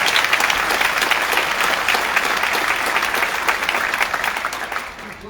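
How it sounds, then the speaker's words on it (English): A large audience at a mayoral swearing-in ceremony in a university hall breaks into loud, sustained applause after live music, a dense wash of clapping that fades slightly toward the end. "Can I just ask you to give one more round of applause for that wonderful music we had?"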